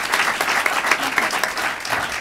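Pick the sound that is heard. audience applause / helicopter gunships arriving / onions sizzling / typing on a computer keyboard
audience applause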